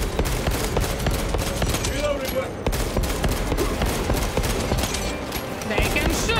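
Enemy bugs firing in Space Marine 2, rapid gunfire in dense bursts with sharp individual cracks throughout, loud and close, with a voice speaking over it.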